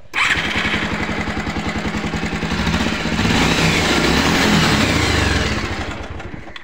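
A motorcycle in neutral fires up and settles into a steady, rapid idling putter close to the mic, the throttle swelling briefly before easing back down.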